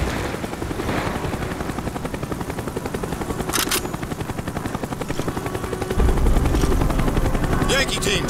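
A helicopter in the video game Call of Duty Black Ops thumps steadily and loudly with fast rotor chop, intermittent gunfire cracking over it, and voices speaking under the din.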